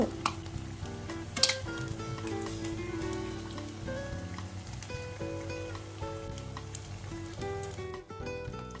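Sun-dried catfish and snakehead fish frying in oil, a soft crackling sizzle heard under background music, with a few sharper pops and small knocks.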